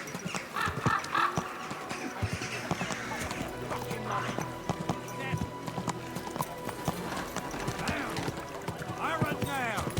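Steady clip-clopping horse hooves in the video game Kingdom Come: Deliverance II, mixed with a busy crowd of voices and market calls, with a brief horse whinny near the end.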